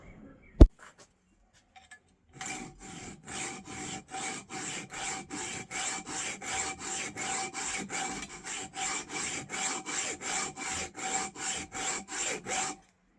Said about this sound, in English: So let's cut this off with the handsaw.